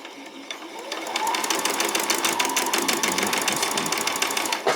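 A sewing machine runs steadily, stitching back and forth across a doll's skirt for a child, a fast, even mechanical chatter close to the mic for several seconds, ramping up after a brief start.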